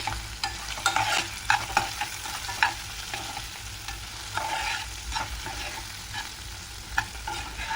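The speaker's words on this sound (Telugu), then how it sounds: "అన్నీ యాడ్ చేశాక మీడియం ఫ్లేమ్లో వేయించుకుంటూ ఉండాలి" Red lentils and turmeric fry in a pan on a medium flame while a spoon stirs them, giving a steady close sizzle broken by repeated scraping strokes.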